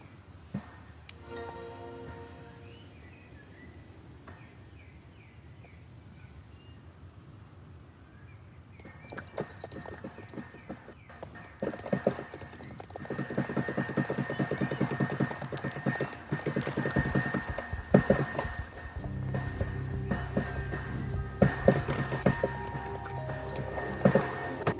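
Hoofbeats of a horse named Dellinger trotting along a road in the Star Stable riding game, a steady clip-clop rhythm that grows louder and busier about halfway through, mixed with background game music and ambience.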